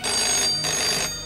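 A home telephone rings in two short bursts of a bright electronic trill, loud and close, separated by a brief gap with no voices.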